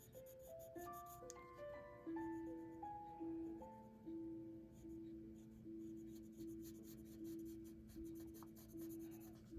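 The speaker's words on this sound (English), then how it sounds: "Turn your pencil as you color." A Prismacolor colored pencil coloring on paper, a soft continuous scratchy rubbing in steady strokes, close and faint, with a quiet musical tone running underneath.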